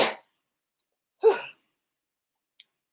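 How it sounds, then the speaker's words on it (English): A woman gives a single sharp sneeze in a quiet room, followed by a softer breathy exhale and a tiny click before silence. "Excuse me, I got to sneeze."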